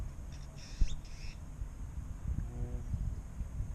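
A blackbird-like bird gives a few harsh, squeaky calls, one rising and creaking like a door opening, over a low rumbling outdoor background near the water in Texas.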